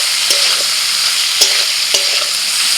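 Shrimp and boiled yardlong beans fry with a steady, loud, close sizzle in a pan, broken by a few sharp scrapes and knocks of a spoon as they are stirred, with no talking.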